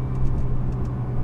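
Honda/Acura NSX engine held at a launch control start, a brief, loud, steady low drone of revs sustained from inside the car, with no talk.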